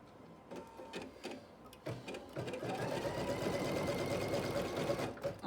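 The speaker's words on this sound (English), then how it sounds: "And stitch." Sewing machine stitching fabric for a flying geese quilt block, a few short starts before a steady, fast mechanical whir with rhythmic needle ticking, close and clear.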